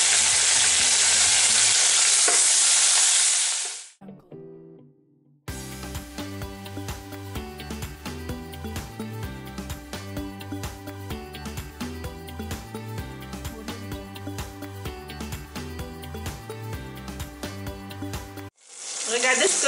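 Chicken wings fry in a pan over high heat with a loud, steady sizzle at the start; music then plays alone for a long stretch before the sizzling returns briefly at the end.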